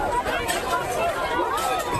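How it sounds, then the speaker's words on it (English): A crowd of protesters surges at barricades outside the White House, a dense, steady roar of shouting voices and chatter, with a news narrator speaking over the din. "Crowds surge barricades"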